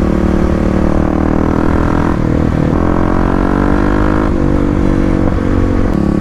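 A 2018 Kawasaki KLX351 dirt bike with a full Barker exhaust revs loud and near, its pitch stepping down through several downshifts with crackling blips between gears, and nobody talks.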